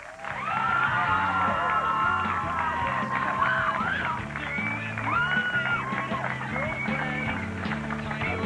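Beach crowd at an MTV Beach House taping cheers, whoops and yells for the band, a loud sustained roar of voices with music thumping underneath.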